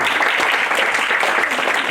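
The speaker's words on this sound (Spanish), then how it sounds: "Un fuerte aplauso." An audience at a round-table session applauds after a speech, a dense, steady wash of many hands clapping together, loud and sustained throughout.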